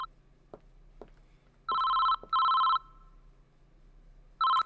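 A telephone rings in the video game Late Shift, loud electronic ring bursts, two in quick succession and a third after a pause, over a quiet background with a few soft knocks.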